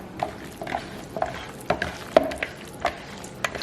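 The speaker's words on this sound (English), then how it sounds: "I'm just going to finish mixing this with my hands" Steak marinade being mixed by hand in a bowl, giving soft wet squelches and dabs in an uneven rhythm, close and fairly quiet, with no talking.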